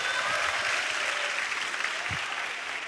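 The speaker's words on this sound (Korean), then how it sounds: "박수!" Steady, even applause from a crowd at a church summer camp gathering, a dense wash of clapping that holds throughout and fades slightly at the end.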